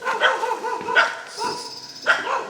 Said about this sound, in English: 2 lovely young dogs here.